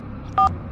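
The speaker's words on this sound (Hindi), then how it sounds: "पंडित को फोन लगाता हूँ।" A single short two-tone telephone keypad beep, loud and clean, sounds once over a low background hum as a phone number is dialed.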